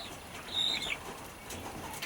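Quail shuffling and flapping their wings inside cages, a short burst of soft feathery fluttering over a steady background hiss, with no voices.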